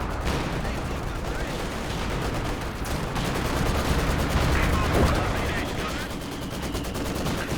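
Gunfire and artillery from a Company of Heroes 2 multiplayer battle, a dense continuous clatter of small-arms and machine-gun bursts with booming impacts, loud throughout with a voice faintly under it.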